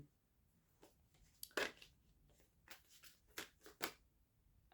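Tarot cards being shuffled by hand, several quick riffling bursts spread across a quiet room, close and soft, without speech.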